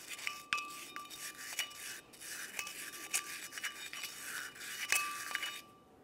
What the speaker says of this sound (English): go ahead and sand this down and make sure that there's no rust or debris